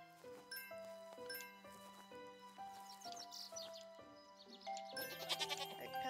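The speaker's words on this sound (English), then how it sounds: "Alright, let's come and say hi to a goat." A goat bleats in the Harvest Island video game, several wavering bleats heard clearly over a stepping melodic game tune with chiming accents.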